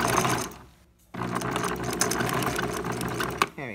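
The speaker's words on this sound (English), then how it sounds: "And then I'll do a quick back stitch forward." A sewing machine running a quick back stitch on a costume top, a close mechanical whir that stops briefly, then resumes and runs steadily to the end.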